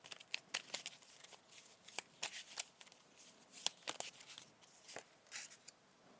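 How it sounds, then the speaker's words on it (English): Tarot cards being handled and drawn from a deck during a reading, a steady run of close, crisp papery flicks, slides and snaps with uneven rhythm, fairly quiet and with no voice. "I'm going to draw another card for you here."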